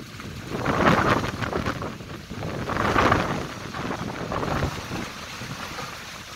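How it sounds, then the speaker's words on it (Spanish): Gusty storm wind roars across the microphone during a rainstorm in Guadalupe, swelling and easing in broad loud waves with no voices. "Este viento, estas tormentas de verdad."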